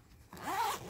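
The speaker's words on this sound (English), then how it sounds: "it's a bit tight to get the zipper closed" A single short zipper pull closing a tight book sleeve, close and fairly quiet, drawn steadily closed in under a second.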